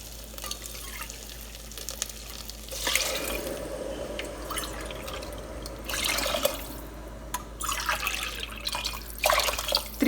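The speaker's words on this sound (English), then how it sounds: "For that I'm adding 3 cups of water." Water poured from a cup into rice in an Instant Pot, heard as a steady trickling, splashing pour close by in several bursts with brief pauses.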